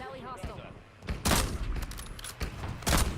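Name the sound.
sniper gunfire, likely in a video game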